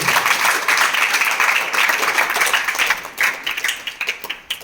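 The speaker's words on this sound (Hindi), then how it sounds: "सदैव की भांति इस सदन की शुरुआत जोरदार तालियों के साथ" Loud, dense clapping from a classroom of students opening a school mathematics session on fractions. It holds steady for about three seconds, then breaks into looser, scattered claps before fading.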